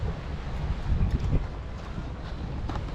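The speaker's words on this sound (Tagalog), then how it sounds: "ang lakas ng hangin" Steady blustery wind roaring across the microphone on a coastal road in Davao, with low rumbling gusts that swell and ease over a few seconds outdoors.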